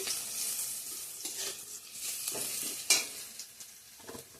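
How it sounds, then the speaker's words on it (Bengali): Garlic, onion, bay leaf and dried chili frying in oil in a home kitchen, a soft crackling sizzle with scraping stirs and one sharp spatter partway through, fairly quiet and with no talking. "এইখানে ফোড়নে দিছি রসুন পেঁয়াজ তেজপাতা শুকনো লঙ্কা ফোড়ন দিছি"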